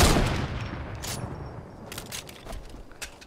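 Sideways rifle gunfire in Fortnite, a loud burst up front fading into a rumble, followed by several sharp, scattered shots at moderate distance.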